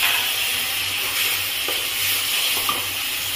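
Soaked cumin, coriander and chili powder fry in oil with onion and garlic, giving a dense, continuous hiss and sizzle close by, with a few faint stirring clicks and no talking.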